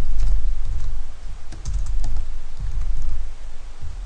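Quick, close keystrokes clatter on a computer keyboard in irregular bursts, a steady run of crisp clicks and thuds with short pauses and no talking.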